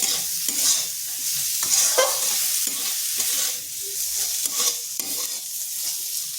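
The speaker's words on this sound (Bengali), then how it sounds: "আবার মিনিট 2-3 নেড়ে নিচ্ছি, যাতে গাজরের কাঁচা গন্ধটাও চলে যায়।" Carrots sizzle in a hot pan while a utensil stirs and scrapes them in repeated strokes, close up with no talking.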